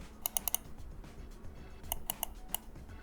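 Side buttons on a wired Razer DeathAdder V3 gaming mouse give short, crisp clicks in two quick clusters of three or four presses, close up over a low steady room hiss.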